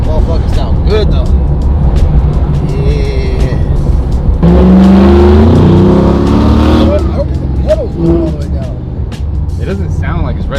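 An LSA supercharged V8 swapped into a 1987 Chevrolet Monte Carlo SS revs loudly and close by, surging hard in the middle of the clip before settling back to a steady rumble, with people talking over it.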